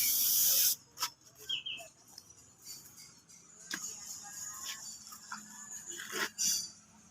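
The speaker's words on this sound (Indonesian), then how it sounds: "kita semproti clear agar bisa awet dan bertahan cukup lama" A spray gun hisses clear coat onto a candy-red painted car body panel, with a loud burst at first and then quieter intermittent spurts and pauses in a small workshop.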